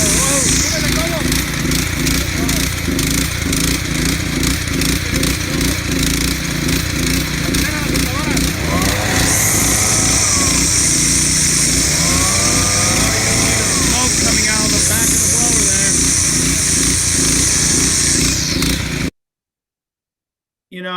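Gas-powered commercial lawn and garden equipment, including a power trimmer, runs loud and close with a steady buzzing engine drone, rising in pitch during revving bursts, then cuts out abruptly near the end.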